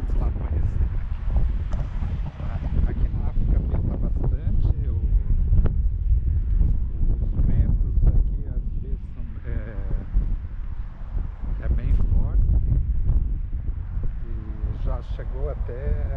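Wind blowing into a microphone at Adam Tas Dog Park, an open field of low vegetation, a steady, loud, low rumble and buffeting throughout, with a voice talking faintly underneath.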